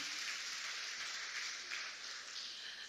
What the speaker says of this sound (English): Please, a round of applause for her again